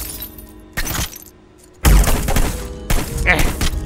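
Loud gunfire in the video game Hitman Blood Money: heavy bursts of shots with boomy impacts, separated by a short near-silent gap, then a longer sustained volley.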